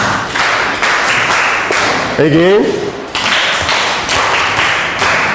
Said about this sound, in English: Okay, they've all tried. Clap for them.